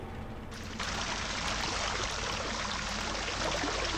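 Water pouring into a fountain in the puzzle game Rhem 2: The Cave, a steady close splashing rush that starts abruptly after a quieter moment and continues evenly, without talk.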